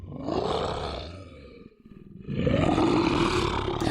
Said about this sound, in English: It's time for the lions to come out roaring.